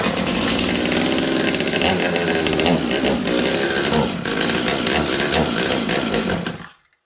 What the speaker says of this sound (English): Okay, full choke. Let's see if this thing starts.